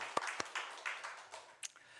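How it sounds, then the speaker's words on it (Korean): Congregation clapping in a church during a Sunday morning worship service: a faint, distant, steady patter of many hands, with a couple of sharper individual claps standing out early on. "우리 하나님께 영광의 박수를 올려드리겠습니다"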